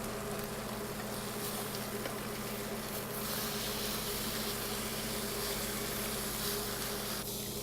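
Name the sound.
steak searing in a Berndes non-stick pan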